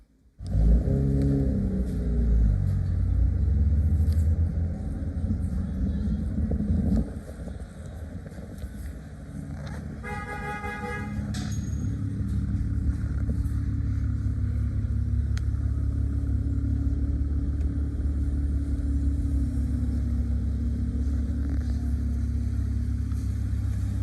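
A car is driven on the road toward a tire shop for a nitrogen fill on its tires, its engine droning loud and steady as it pulls away and accelerates, with road rumble and wind noise and no talk.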